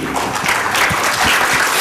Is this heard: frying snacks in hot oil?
no